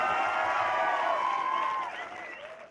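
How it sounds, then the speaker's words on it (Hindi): Audience applause and cheers for BSF soldiers at a Republic Day event, a dense wash of clapping and whoops that fades after about two seconds. "तो तालियां अपने लिए, स्वयं के लिए"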